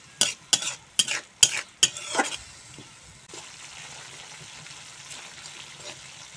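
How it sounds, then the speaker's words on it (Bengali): Ground turmeric, cumin and chilli powder being stirred and fried in a pan, with a handful of sharp scraping strokes near the start and then a low, steady sizzle alone. "এখন মশলা ভালো করে কষিয়ে নেব।"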